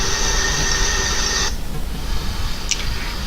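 A household garbage disposal, just replaced, runs with a steady whirring hum and water noise, then is switched off abruptly partway through, leaving quieter running water behind.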